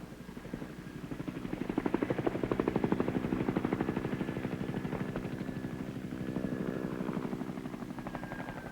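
Bell AH-1 Cobra attack helicopter flying protective patterns over a combat landing zone, its steady, loud rotor chop pulsing evenly throughout with a dense engine roar and no voices.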